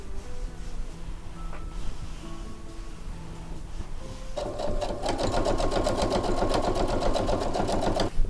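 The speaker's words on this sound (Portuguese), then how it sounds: "vou voltar a máquina para fazer uma rebatida aqui na parte" Sewing machine topstitching along the curved edge of a fabric pocket on a small zippered pouch: after a few seconds of quieter background, a fast, rattling needle rhythm starts up close and runs steadily to the end.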